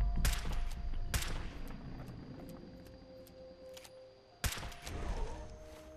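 Gunshots ring out in Fallout 4 Far Harbor: a quick cluster of sharp, loud shots at the start, a lone shot about a second later, then a final crack after a quieter stretch with a faint steady hum.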